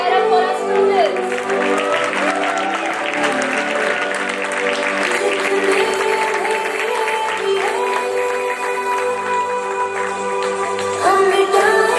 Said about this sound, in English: Parents, can we cheer up for our students?